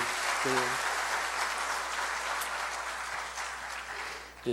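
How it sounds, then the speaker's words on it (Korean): A church congregation gives a sustained round of applause during a comedian-pastor's testimony event, a broad, steady clapping wash, fairly close, with a brief voice near the start. "우리 여러분께 박수 한번 보내주세요"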